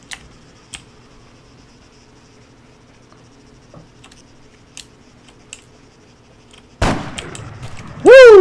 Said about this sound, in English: That thing sounded like a cannon.